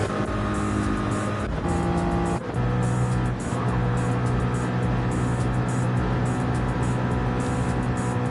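Race cars at Daytona in Gran Turismo 7 roar past in a dense pack, engines droning loud and continuous with brief swells as each car goes by, and no voices are heard.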